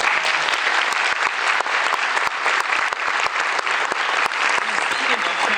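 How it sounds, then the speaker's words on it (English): Sci-fi convention audience in Malmö applauding during a Q&A session, a loud, dense and sustained wall of clapping with sharp individual claps standing out throughout. "And worth an applause."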